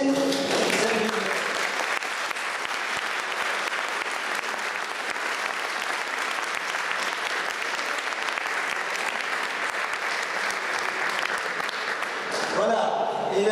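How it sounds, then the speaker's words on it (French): Sustained applause from an audience fills the room, steady and dense, tapering off near the end as a voice briefly returns. "de féliciter les conjoints"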